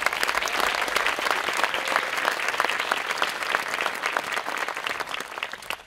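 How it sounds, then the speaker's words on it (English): A crowd at a school graduation ceremony gives the graduating students a long, steady round of applause, dense rapid clapping sustained at an even level throughout. "Let's give them a huge round of applause"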